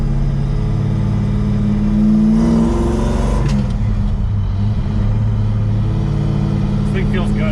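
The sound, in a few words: 1968 Oldsmobile Cutlass engine revving while driving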